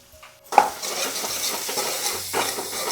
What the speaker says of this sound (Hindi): तो अभी मैंने तड़का लगाना शुरू कर दिया है।